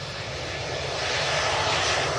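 EasyJet Embraer jet aircraft passing, a steady broad engine roar, loud and unbroken for the whole short stretch.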